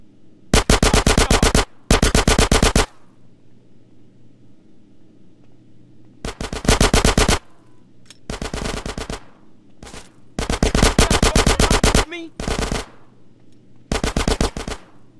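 Machine-gun bursts of rapid automatic fire in GTA San Andreas, loud and close, come in several separate volleys of one to two seconds with quiet gaps between them.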